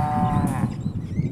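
Cattle in an Oklahoma pasture give a single drawn-out moo, close and clear, with a low rumble of wind or handling noise underneath and no talk.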